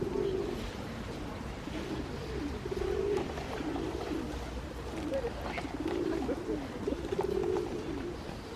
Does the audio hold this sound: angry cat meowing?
no